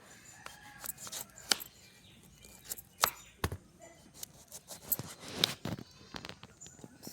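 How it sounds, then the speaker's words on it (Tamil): Peeled bottle gourd being cut into round slices with a knife: a run of sharp, irregular close cuts and taps on a board, fairly quiet, with no talking. "சுரக்காய் ரவுண்ட் ஷேப்பில் கட் பண்ணிவிட்டு அதுக்கப்புறம் நம்ம கட் பண்ணி எடுத்துக்கிறோம்"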